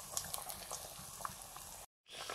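Cauliflower fritters with onion and coriander bubble and crackle in hot oil, with soft popping and a brief cut near the end.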